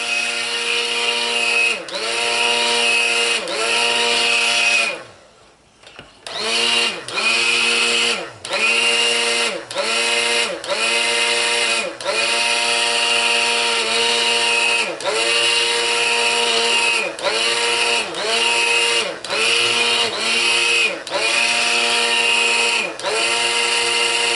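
A squeeze-operated hand blender whirs loudly and steadily while mixing lard lye soap. The motor cuts out briefly and restarts, with a pulsing rhythm as the grip is squeezed and released.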